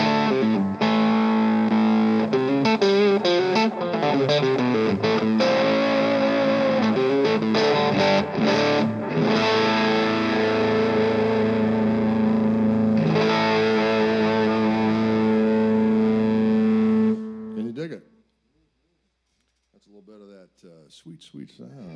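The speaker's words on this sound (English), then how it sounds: "I did new pickups with Fishman with this guitar." An electric guitar fitted with new Fishman pickups and played through the distorted second pickup voice, with loud sustained chords and riffs ringing for about seventeen seconds before cutting off, followed by brief faint talk.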